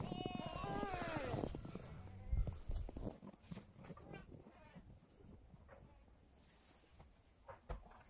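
Hungry farm goats bleat near dusk: a wavering bleat opens loud and close, then fades into quieter rustling and shuffling movement.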